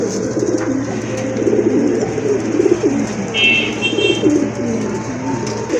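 Pigeons coo continuously in low, throaty rolling calls, close and fairly loud, on a pigeon farm, with a faint chirp of another bird briefly in the background.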